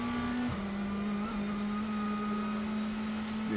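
A WTCC touring race car at the Nürburgring screams at high, steady revs with a brief dip as it shifts into sixth gear, then holds a strong sustained engine whine on the downhill run.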